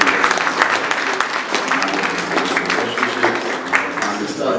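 An audience breaks into applause, a sustained crowd clapping with scattered louder claps, while someone speaks over it.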